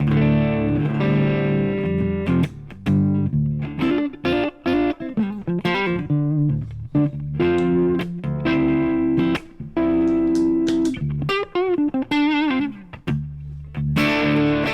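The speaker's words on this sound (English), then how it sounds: "And then I got the harmonic tremolo" Electric guitar chords and picked notes played through a harmonic tremolo pedal, pulsing and wavering, with reverb tails and brief pauses between phrases.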